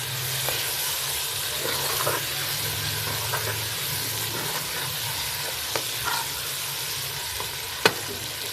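Pumpkin (kaddu) sizzles in hot oil in a pan as it is stirred for a lentil dish, a steady broadband frying hiss with occasional spoon scrapes and taps, one sharper knock near the end.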